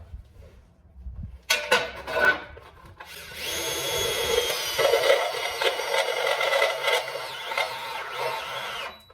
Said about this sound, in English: That's where you have to drill the hole at. The stepper bit helps out quite a bit